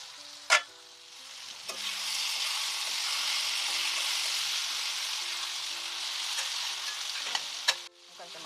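Cucumber, capsicum, tomato and chukkakura curry cooks in a pan with a steady soft sizzle, broken by a couple of sharp clinks of a utensil against the pan.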